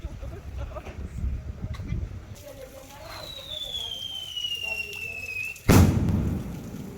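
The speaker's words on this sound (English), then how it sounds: "Fireworks all day today." Firework bursts in a small Mexican town: a sharp loud bang near the end over ongoing street noise and murmuring voices, with a descending whistle-like tone beforehand.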